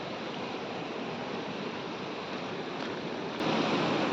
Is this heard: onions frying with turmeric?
no